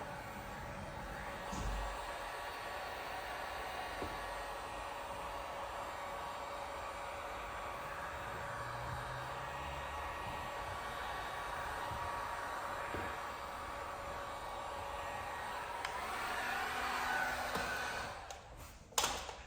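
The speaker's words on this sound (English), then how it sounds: "If you don't have a heat gun, you can use a hairdryer." A steady, even blowing roar of a heat gun or hair dryer running continuously while heating headlight tint film on a Subaru, with a brief clatter near the end as it shuts off.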